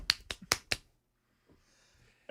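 Four sharp hand claps in quick succession, close and distinct, followed by near silence with a faint rustle.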